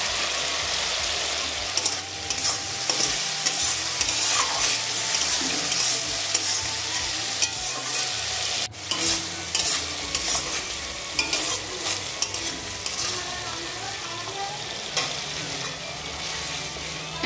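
Chopped tomato frying with cumin paste in a pan, a steady loud sizzle with repeated scraping stirs throughout, close up and with no talk.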